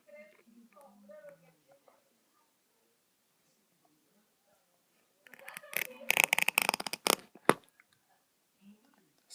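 A piece of duct tape is pulled and cut close by, giving a burst of loud crackling, ripping sounds after a stretch of quiet speech.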